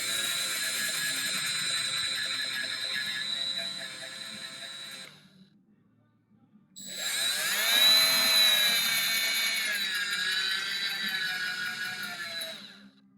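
A rotary tool grinds and trims plastic from a servo mount on a Traxxas TRX4M micro crawler, whining close by in two steady passes split by a short pause, the pitch wavering under load.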